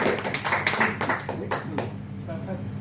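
Scattered clapping from an audience at a magic and hypnosis show in a lounge bar, cheering a volunteer, a few hand claps and taps under a voice talking over it.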